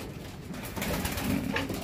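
Racing pigeons cooing close by during a training toss: soft, throaty burbling coos blending together over a dense, continuous backdrop of noise, with no speech.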